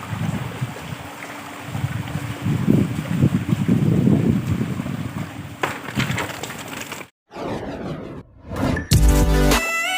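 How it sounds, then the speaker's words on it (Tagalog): Strong wind buffets the microphone outdoors in Camaligan, Camarines Sur, a loud roaring rush that swells and gusts for several seconds before broken, cutting-out handling noise near the end. "Lakas po ng hangin dito."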